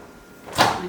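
A microwave door swings open in a home kitchen during homemade soap making, where oils are about to be heated: one short, close, broadband clunk with a brief trailing rustle, following a quiet lead-in, with no talking.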